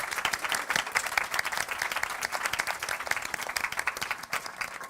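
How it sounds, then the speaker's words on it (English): An audience closes a youth forum session with applause: a fairly distant, steady round of crowd clapping lasting about five seconds with no pause. "Please, round of applause to everyone."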